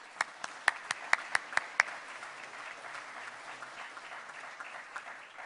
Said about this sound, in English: Let's give all our guests a round of applause.